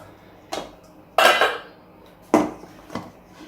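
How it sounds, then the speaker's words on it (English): A spoon clanks against a cooking pot while stirring Jamaican green gungo peas soup with coconut milk: four separate metallic knocks, close and fairly loud, with quiet pauses between them and no talking. "So just gonna give the pot a stir."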